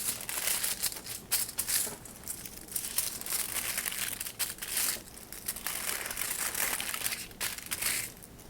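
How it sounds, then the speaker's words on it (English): Thin tin foil folded accordion-style into narrow strips, giving steady close crinkling and crumpling with sharper crunchy bursts throughout, no voices. "So we're going to fold it into thin pieces, just like this, until the whole paper is folded."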